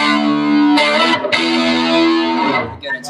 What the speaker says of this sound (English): Now we're into proper distortion territory.